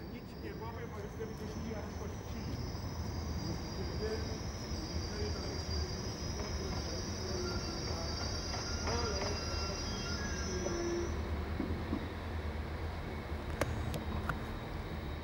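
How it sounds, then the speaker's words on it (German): A Talent passenger train of the NEB railway pulls into Kostrzyn station in Poland, its steady rolling rumble running throughout while a long high wheel squeal rises over it and then fades out. "Heute erreichen die Talentzüge der NEB den Bahnhof Koszczyn in Polen."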